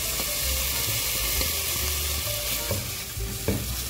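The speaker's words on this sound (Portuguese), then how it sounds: "Agora eu vou deixar ele aqui dar uma fritadinha." Bacon frying in a pot gives a continuous close crackle and sizzle, with scattered clinks and scrapes of stirring on top, and nobody talking.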